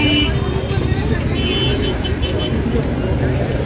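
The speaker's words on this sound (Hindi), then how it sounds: "बहुत ही ट्रैफिक है दिल्ली का गाइस।" Heavy Delhi street traffic at a traffic light: a dense, steady roar of cars and buses with short car horn toots near the start, and voices talking over it.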